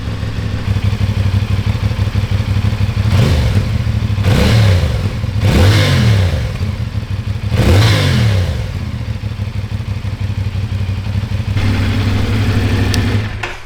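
A CFMOTO 450SS motorcycle with its stock exhaust idles with a steady low rumble, then revs sharply three times in quick succession before settling back to idle; loud and close, no talk.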